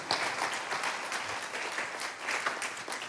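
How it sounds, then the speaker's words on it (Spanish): A church congregation gives loud applause during a sermon, dense clapping with slight swells, sustained throughout with no voices over it. "Denle un fuerte aplauso al Señor."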